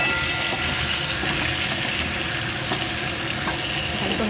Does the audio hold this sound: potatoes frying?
yes